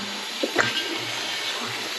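Water rushing over a 1990s billet Centerline Convo Pro wheel during washing, a steady broadband spray with a brief splashy burst near the start, close and constant.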